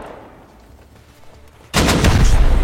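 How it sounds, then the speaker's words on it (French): After a quiet stretch, an automated turret in the survival game Rust suddenly opens fire, a loud, rapid barrage of close gunshots that continues to the end. "C'est moi, j'ai une tourelle."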